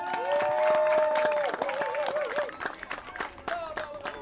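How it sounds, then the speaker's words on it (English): A crowd at a Dixie softball tournament gives a round of applause for the Alabama team. Scattered clapping runs under a lingering announcer's voice and some crowd noise, then thins out toward the end. "Let's all give them a huge round of applause"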